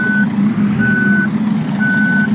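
Reversing beeps from a truck in a driving game, three evenly spaced long electronic tones over a steady low engine rumble, close and loud, with no talking.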